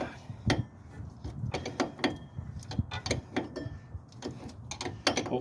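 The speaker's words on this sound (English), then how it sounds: "I'm gonna hold the top of that stud with a pair of vice grips and use an open end wrench to loosen it up" Open-end wrench working loose a stud on a junkyard solid axle while vice grips hold its top, giving irregular metallic clicks and clanks over a low rumbling background, fairly close.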